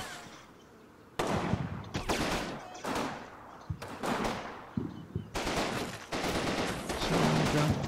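Heavy machine gun team firing small arms in the Combat Mission wargame, with repeated bursts of rattling gunfire, loud and close, in several volleys separated by brief pauses.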